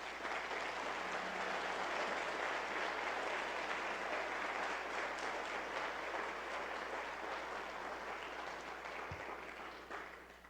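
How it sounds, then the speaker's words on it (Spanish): A church congregation claps in a dense, sustained roar that holds steady for about ten seconds and then begins to fade at the end. "¿Cuánto le pueden dar un aplauso al Señor?"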